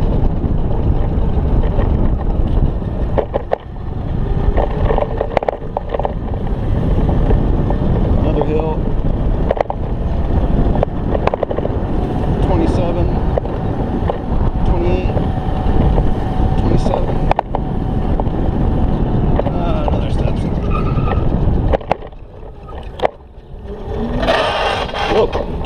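A Currie-Tech electric scooter with an over-volted, re-geared 1000-watt motor runs at full throttle, buried under loud, steady rushing wind noise throughout, with a voice talking over it.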